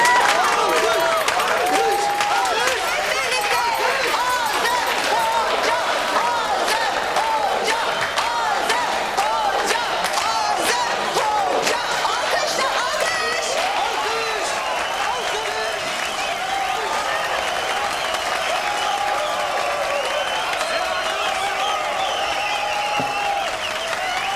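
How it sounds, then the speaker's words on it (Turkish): A large crowd applauds steadily and loudly through the whole stretch, with scattered cheers and whoops rising above the clapping as a comedian is called up to the stage at a live comedy show. "Kuvvetli alkışlarınızla Azem hocamızı sahneye davet ediyoruz"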